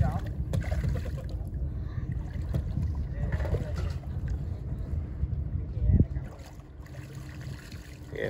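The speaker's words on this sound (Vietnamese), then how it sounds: "Ghe mới vô tới bờ luôn cả nhà ơi." A Vietnamese wooden fishing boat (ghe) coming in to the shore on the coast: a low, continuous engine and water rumble with wind buffeting and a brief louder surge near the end, while people talk over it.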